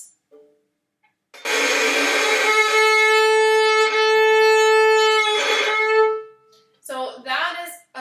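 Violin bowed with heavy pressure like a beginner, giving a harsh, scratchy, strained sustained tone for several seconds, close and alone; brief talk before and after.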